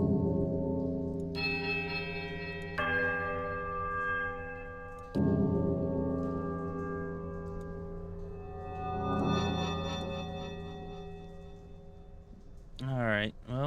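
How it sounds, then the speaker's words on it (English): Bells tolling in the fantasy role-playing game Pillars of Eternity, layered sustained tones striking in several waves, each new strike swelling over the last before a shimmering, warbling chime closes the sequence. "a sudden dissonant toll sounds from the bells, so loud and piercing that you are compelled to cover your ears"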